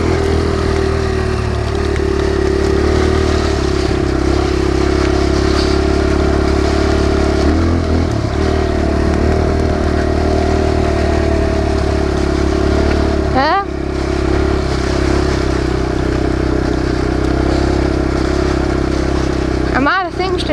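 A new Kawasaki KLX 140 dirt bike engine running steadily and loud up close, with a droning idle and brief revs near the middle and end, while a rider talks over the noise.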